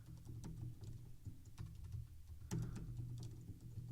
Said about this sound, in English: I type in the words highlighted